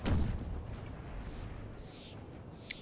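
A cannon shot from Napoleon: Total War thumps out once at the start as a deep, booming blast, then settles into a low rumbling battlefield din with a small crack near the end.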